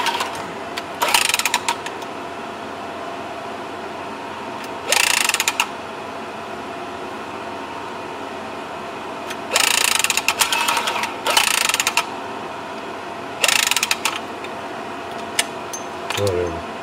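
A new 1-inch pipe is cut during a repair of a leak inside a wall and ceiling, producing several separate bursts of close ratcheting, clicking mechanical strokes with quiet pauses between them.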